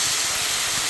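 Bulgogi frying in a hot pan, giving a steady, close hiss of sizzling with no talking over it.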